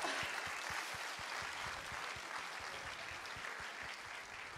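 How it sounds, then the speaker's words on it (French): An audience at a university research-talk competition claps steadily, a dense wash of applause that holds at an even level for several seconds without any talking. "Merci Manon, on l'applaudit bien fort."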